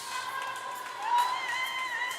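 Spectators at an indoor swim meet cheer as a swimmer finishes, a soft, steady, far-off crowd murmur with whistles and shouts swelling briefly in the middle.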